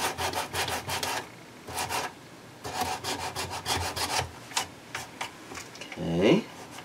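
A plastic Camaro console is sanded by hand with 150-grit sandpaper in close, rapid bursts of rasping back-and-forth strokes. Short pauses separate the bursts, and a brief voice is heard near the end.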